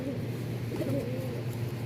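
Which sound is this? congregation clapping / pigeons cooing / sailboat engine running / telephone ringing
pigeons cooing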